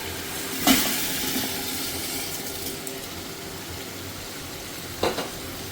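Raw rice being stirred and fried in a pan for Bengali plain pulao: a steady close sizzle and hiss of frying, with a couple of brief scraping knocks of the spoon against the pan.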